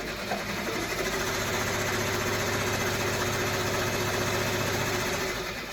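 An embroidery machine stitches a face mask in the hoop, a steady, loud mechanical drone with a dense, even rhythm running continuously without pause.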